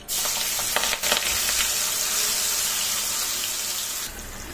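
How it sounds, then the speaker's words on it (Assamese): Soybeans frying in hot mustard oil in a kadai give a loud, continuous close-up hiss and sizzle, with a few sharper crackles near the start and no voices. "এয়া মই সয়াবিনখিনি ভালদৰে ভাজি লওঁ"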